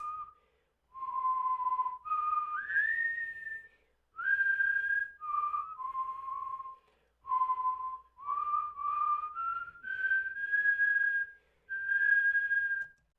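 A person whistles a slow, gentle melody alone, with clear sustained notes and small slides between them, phrased in short lines separated by brief pauses.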